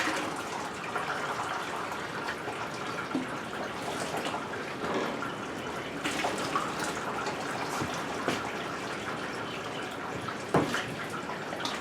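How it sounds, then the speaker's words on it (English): Liquid from a bourbon mash drains steadily into a fermenter, a quiet continuous trickle with occasional drips and small splashes up close. "you hear it draining."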